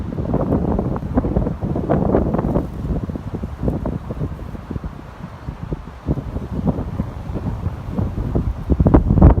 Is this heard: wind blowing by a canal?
yes